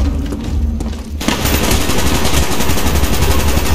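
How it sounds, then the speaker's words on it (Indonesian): A shotgun fires in the video game Call of Duty Black Ops, a loud blast kicking in after a quieter second and followed by dense, continuous gunfire and booming noise throughout. "Ini shotgun ya teman-teman."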